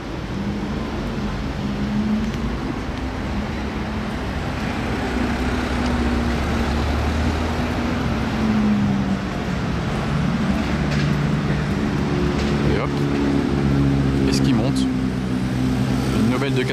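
A Porsche 996 GTS on a temporary plate, newly delivered in Monaco, rolls down the road with a steady low engine drone that holds level throughout, close by and continuous.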